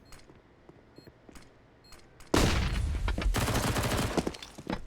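Gunfire from a Counter-Strike esports match on the Vertigo map: a few faint shots early, then a sudden loud flurry of rapid fire and overlapping shots from a Tech-9 pistol and other weapons, sustained to the end.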